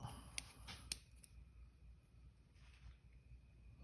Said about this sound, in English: My scissors are dull, but they did just cut.